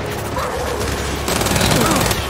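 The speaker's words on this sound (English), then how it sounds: "We got you with our turret!" A mounted turret in the video game Gears of War 5 fires in a dense, continuous burst of rapid shots under game voices and battle noise.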